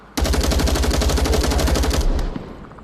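A weapon fires a sustained, rapid full-auto stream of loud, evenly spaced shots in the VR shooter Onward, then cuts off and leaves a short fading tail.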